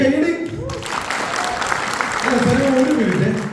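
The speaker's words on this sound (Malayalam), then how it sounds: "ഒരു കയ്യടി" An audience at a success celebration for the film Thudarum, held by a Mohanlal fans' welfare association, breaks into loud, sustained clapping and cheering, with voices carrying over and through the applause.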